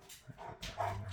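A German Shepherd barks a couple of times indoors, short mid-pitched woofs with a whiny edge, fairly near but moderately quiet.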